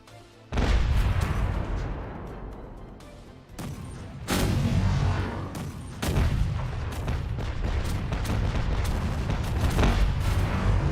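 Naval cannon fire from ships bombarding a fort in the pirate video game Caribbean Legend, a steady barrage of booming blasts and rumbling impacts layered over continuous battle din, loud and sustained.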